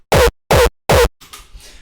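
A punchy kick drum sample from a sample pack, struck three times in an even rhythm, each hit loud, short and separated by silence, followed by faint low noise.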